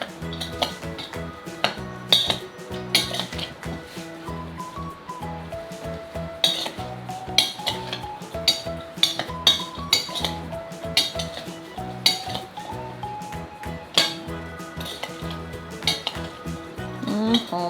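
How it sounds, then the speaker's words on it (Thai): Utensils clink and scrape against a bowl as shredded shallots or onions and toasted rice are mixed into a giant mao berry salad, busy irregular clatter and chinks continuing throughout, close and fairly loud, with no talk. "จากนั้นก็ คนส่วนผสมทุกอย่างให้เข้ากันนะคะ"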